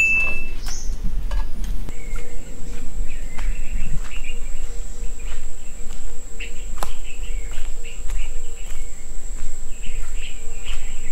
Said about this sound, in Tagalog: Narinig yung mga tunog ng ibon, mga huni.